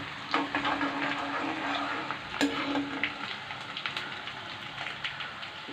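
Green chili, garlic and mustard seeds fry in hot oil for a mango pickle, giving a steady crackling sizzle with scraping stirs and occasional sharper pops throughout, no talking.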